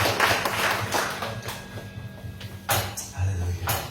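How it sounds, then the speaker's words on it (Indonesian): A church congregation claps for Jesus in a continuous, loud patter of many hands, with swells and a few sharper bursts, plus some low thumps and faint voices mixed in. "Berikan tepuk tangan untuk Tuhan Yesus."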